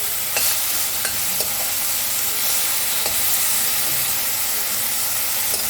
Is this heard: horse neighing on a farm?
no